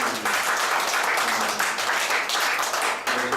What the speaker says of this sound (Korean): 우리 서로 격려하는 박수 한번 드리겠습니다.